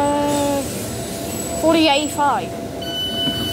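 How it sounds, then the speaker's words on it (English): Tyne and Wear Metro train at a platform in Jesmond Metro Station, with a steady low rumble, squealing tonal whines and brief screeches, while a voice talks over the station noise. "The train standing at platform 2 is for Regent Centre."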